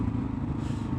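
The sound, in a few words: Kawasaki KLR 650 motorcycle engine with new header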